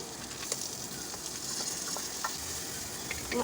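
Mung dal is tipped into lightly fried onions for khichuri, bringing a brief, steady sizzle with faint stirring scrapes close up in the pan.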